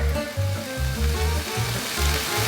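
Leftover chicken seasoned with ground ginger, onion powder and kosher salt heats in a pan, giving a steady loud sizzle with a low rumbling undertone throughout, no voices.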